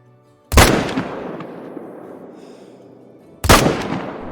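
Two loud rifle shots ring out in the Call of the Wild hunting game while hunting a mule deer buck, each a sharp crack followed by a long rolling echo that fades over about three seconds.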